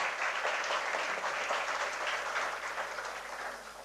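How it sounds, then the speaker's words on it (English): A conference hall audience applauds steadily, a dense wash of many hands clapping at once that holds for several seconds and then begins to taper slightly toward the end. "I think they need a big round of applause for all the work,"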